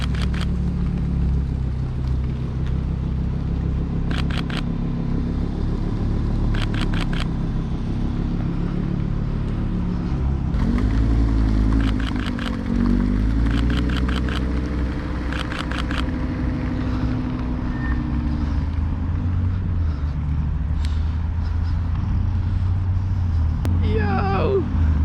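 An Audi R8 moves slowly nearby with a steady low engine rumble that swells midway, as if rolling past, under a constant hum of outdoor noise.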